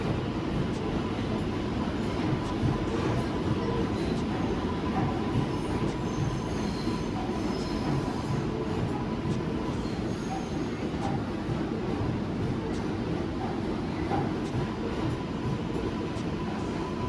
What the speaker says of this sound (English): some trains still run around the South Ferry Loop to this day